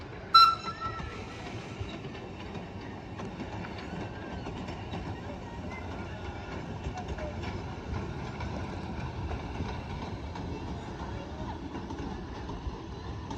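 Light railway train passing a level crossing at the Midland Railway, Butterley: a steady, moderately distant rumble with rhythmic wheel clatter lasting throughout, plus a brief squeal or horn-like tone at the start.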